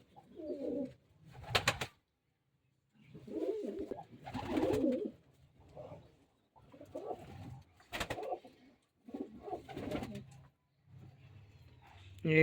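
Male jiriya pigeons coo in separate throaty bursts close by, broken by short gaps and occasional handling clatter, with a voice speaking between the calls.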